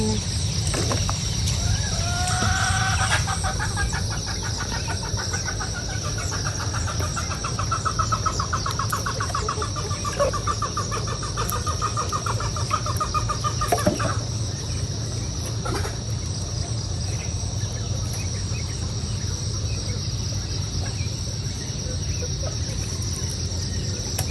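Chickens cluck intermittently over a steady background hum and insect-like buzz, with occasional faint calls and no talking.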